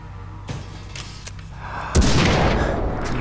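Gunfire in the video game Far Cry 3: a couple of sharp thuds followed by a loud, booming shot with a long noisy tail, close and prominent.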